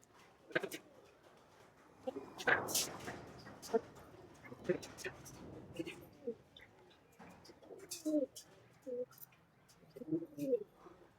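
Several pigeons coo in low, throaty bursts close by, interspersed with rustling and a few faint voices in the background.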